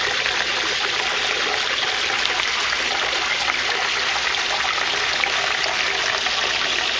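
Water pours steadily into an aquaponics grow bed, making a continuous close splashing gush that stays even throughout, with no voices.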